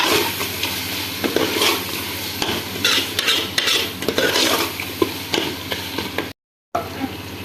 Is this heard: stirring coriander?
yes